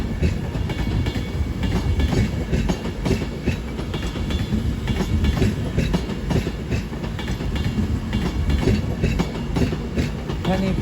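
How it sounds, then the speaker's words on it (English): Avanti West Coast Class 390 Pendolino, unit 390122 leading, arrives at Crewe on the West Coast Main Line, wheels clattering in a loud continuous rumble with rhythmic clickety-clack, close by. "Arriving now is the slightly delayed 1332. Advance West Coast says from Manchester Piccadilly to London Euston."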